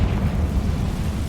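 A Confringo fire spell detonates in the Hogwarts Legacy video game, a dense, sustained low rumbling blast that stays loud and steady throughout with no voices over it.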